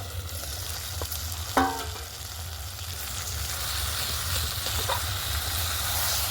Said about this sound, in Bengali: চাপা খুলে আবারও নেড়ে নেব।